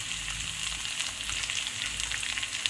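Chopped onion with garlic sizzles in a pan while a pui shak (Malabar spinach) dish is cooked, a steady close hiss and crackle with no talking.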